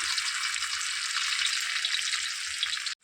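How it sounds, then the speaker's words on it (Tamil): Fish frying in coconut oil in a home kitchen, a steady close sizzle and crackle of hot oil throughout, cutting off abruptly at the end. "மீன் வறுவல் நல்லா ரெடி ஆகிட்டுருக்கு"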